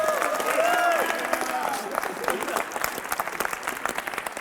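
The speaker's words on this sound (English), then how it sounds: "Round of applause for my man" A school leadership audience claps and cheers for a man named Antonio at a motivational talk, loud at first with a voice over it, then thinning into scattered, uneven claps that trail off.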